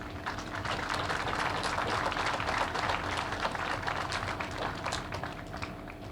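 An audience at a small-town festival opening ceremony claps in dense, steady applause for several seconds, close and lively, slowly thinning toward the end.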